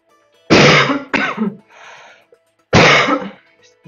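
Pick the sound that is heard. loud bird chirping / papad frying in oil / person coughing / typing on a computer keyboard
person coughing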